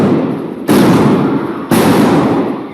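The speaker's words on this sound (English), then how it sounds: "The gunshots sparking panic in the pews" Two sharp, loud gunshots about a second apart, fired inside a Texas church during a Sunday morning service and caught on a live stream. Each shot is an abrupt blast that decays into room echo.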